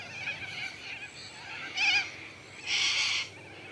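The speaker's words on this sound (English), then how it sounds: "those birds are noisy tonight" Birds settling in for the evening at late afternoon, with a few loud squawking calls bursting out in short clusters over a quiet, hissy outdoor background.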